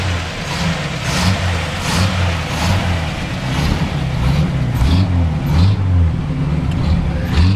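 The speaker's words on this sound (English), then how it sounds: "Cold start in the car." A 1937 Buick engine idles roughly after a cold start, a steady low rumble with uneven pulses throughout, heard up close.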